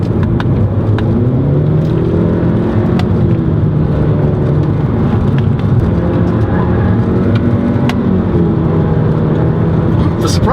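A 2017 Honda Civic Hatchback Sport Touring with a 1.5-litre engine accelerates in sport mode with traction control off. Its engine drones and rumbles steadily from inside the cabin, the pitch rising and dropping through the gears, with people talking over it.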